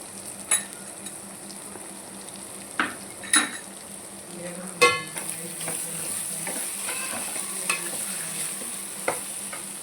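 Egg curry with ridge gourd and garam masala is stirred in a pan, with a steady sizzle of frying and scattered scrapes and clinks of a spoon against metal, close and moderately loud, with no talk.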